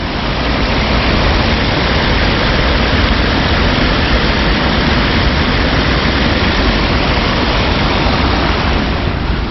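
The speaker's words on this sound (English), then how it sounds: "that's the overflow of the canal water going into the Nut Brook" Canal overflow water pours into the Nut Brook after Storm Dennis flooding, a loud, steady, broadband roar of rushing water that continues unbroken throughout with no voices.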